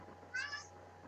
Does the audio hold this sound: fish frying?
no